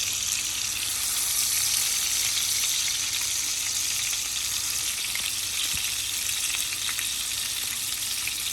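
Kababs shallow-frying lightly in hot oil give a steady, close sizzle with a constant bubbling crackle throughout, and no voices.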